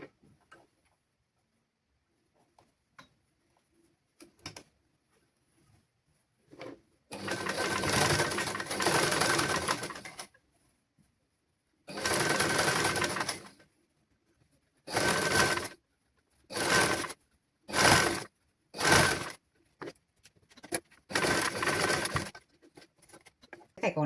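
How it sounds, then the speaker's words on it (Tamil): A sewing machine stitches children's clothes in several bursts of fast, close rhythmic ticking, the runs a few seconds long with pauses between, the later ones shorter and choppier. "தைக்கணும் ஃப்ரெண்ட்ஸ்."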